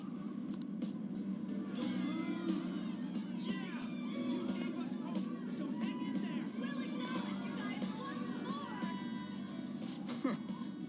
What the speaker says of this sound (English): But they're cheering for us.